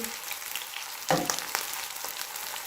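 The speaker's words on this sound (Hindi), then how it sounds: "और इसी तरह से बाकी की जो कबाब की टिक्कियाँ हैं उसे फ्राई कर लेती हूँ।" Chapli kabab patties frying in hot oil, a soft continuous sizzle and crackle with a sharper spitting burst partway through, heard close and fairly quiet.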